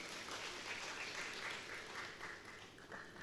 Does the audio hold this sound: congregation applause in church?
yes